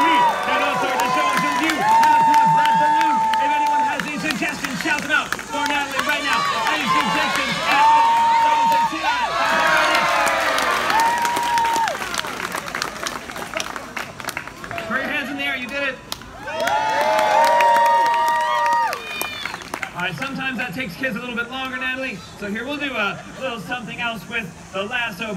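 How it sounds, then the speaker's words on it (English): An audience in a comedy show crowd shouts and cheers in loud, overlapping waves while a balloon is popped, with clapping and excited voices swelling and dipping across the stretch. "Why don't you go pop it, Natalie? Pop it, cheer on everyone, cheer on"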